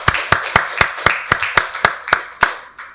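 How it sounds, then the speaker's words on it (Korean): Rhythmic clapping during a Sunday worship service in a church, about ten sharp, evenly spaced claps close by, fading at the end. "박수로 하나님께 영광 돌리겠습니다"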